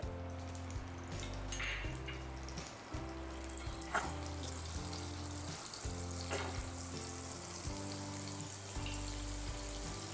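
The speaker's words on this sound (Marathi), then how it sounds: "यामध्ये मी आता 2 टेबलस्पून तेल ऍड करत आहे, 1 टेबलस्पून बटर," Oil and butter heat in a pan, giving a steady, close sizzle with a few light clinks and stirring sounds throughout, no talk.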